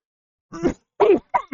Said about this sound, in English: Oh, I'm sorry for coughing.